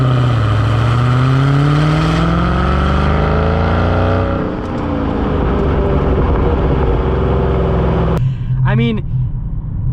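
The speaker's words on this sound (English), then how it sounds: "let's get an acceleration now" A 2020 Dodge Challenger Scat Pack with an 8-speed automatic accelerates hard, its engine revving loudly and climbing in pitch through gear changes, heard from inside the car with a brief rising rev near the end.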